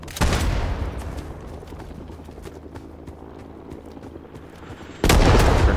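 Bursts of gunfire from the Vietnam War shooter Rising Storm 2, loud shots at the start and a dense volley near the end, with scattered distant gunfire between them.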